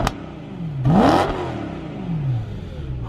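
A BMW M3 engine revs hard as the car accelerates, a rising whine followed by a loud burst, then the engine note sweeping down as it passes.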